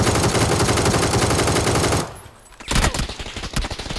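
A new weapon in PUBG on Steam fires a loud, continuous automatic burst, stops briefly, then resumes with rapid, sharp shots close up.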